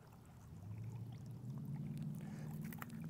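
Water trickling and dribbling from an existing plumbing elbow under slight line pressure, a soft continuous flow that swells a little midway and stays close and faint.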